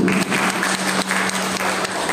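Brief burst of audience applause at an Indonesian school talk, a close, dense clatter of hands with a low steady hum underneath, lasting only a couple of seconds.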